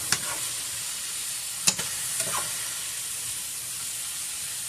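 A whole pack of sliced mushrooms sizzles steadily in a pot, giving an even, close frying hiss with a few brief clinks and stirs breaking through.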